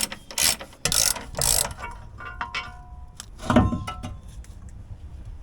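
An impact wrench rattles bolts off the fuel tank skid plate of a Jeep Wrangler JK in several short, loud bursts, followed by quieter clinks and one more burst.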